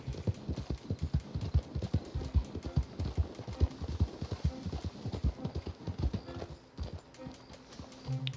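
Horse hooves clip-clop steadily and close at a stable in Red Dead Redemption 2, a continuous rhythmic patter of hoofbeats with soft thuds underneath and no talking.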